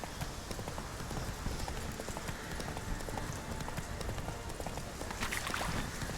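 A horse gallops in a video game, with fast, steady clip-clop hoofbeats running continuously at close range.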